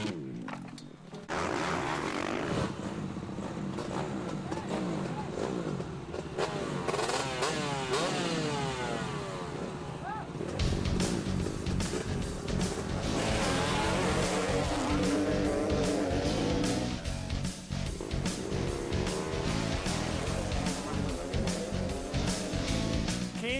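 250F four-stroke dirt bikes launching from a motocross starting gate, engines roaring loud and rising in pitch together as they accelerate away, with a sudden jump in intensity midway.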